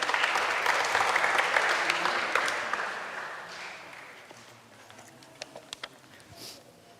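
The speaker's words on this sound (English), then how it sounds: "Round of applause." Audience applause at a talk, loud and dense for about three seconds, then thinning into a softer patter with a few scattered claps at the end.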